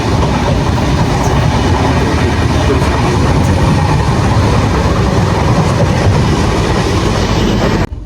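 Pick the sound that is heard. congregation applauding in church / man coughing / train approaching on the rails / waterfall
train approaching on the rails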